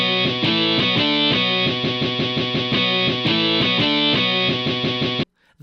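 Virtual distorted electric guitar tones, built from separately recorded distortion guitar samples, played in a steady, rhythmic pattern of repeated chords, loud and dense, ending abruptly near the close.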